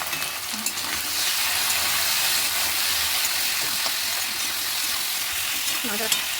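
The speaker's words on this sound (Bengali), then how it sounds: "তারপর দেবো একটু হলুদ দিয়ে একটু নাড়াচাড়া করবো।" Potatoes frying in a pan as turmeric is stirred in, a steady close sizzle with scattered scraping and stirring clatter, with soft talk nearby.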